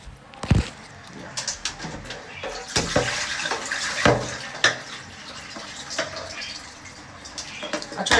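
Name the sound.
water running while rinsing and draining food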